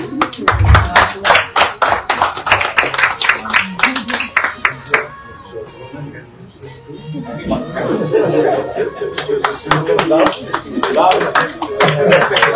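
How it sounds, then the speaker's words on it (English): A crowd claps in a lively, rhythmic burst, then fades into murmuring and light laughter before scattered clapping returns, with voices mixed in. "we will give him a round of applause"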